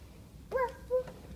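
A voice imitates a dog barking, giving two quick, high-pitched woofs in close succession, faint and close by.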